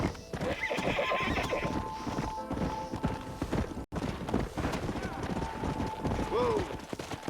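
In the video game Red Dead Redemption, a horse whinnies loudly over the steady clip-clop of galloping hooves, with a brief gap midway, then more galloping and another neigh near the end.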